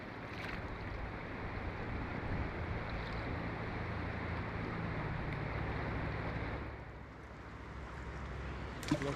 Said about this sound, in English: Here comes a boat down the river.